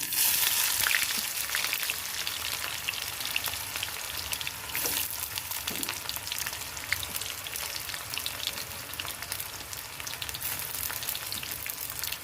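Onions fry in a pan for paneer masala, making a dense, loud, continuous sizzle like heavy rain that holds steady throughout with no talking.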